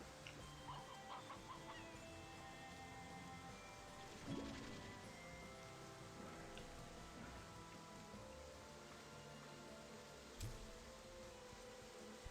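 Chickens cluck in the video game Slime Rancher 2, faint scattered clucks over a steady rain-like background hiss, with one louder burst partway through.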